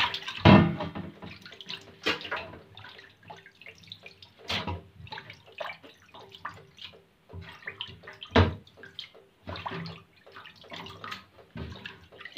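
Mumbar intestines are washed under running water, giving uneven splashing, sloshing and dripping with a few louder splashes. The sound is close and there is no talking.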